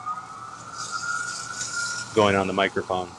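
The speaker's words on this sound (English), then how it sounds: "You can probably hear the sirens in the afternoon" A siren wails faintly in the distance as a steady held tone, then someone speaks close up over it.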